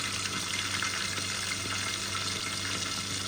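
Pork in a secret marinade frying in hot oil, a steady, dense sizzle and crackle that holds evenly close by for the whole stretch, with no talking.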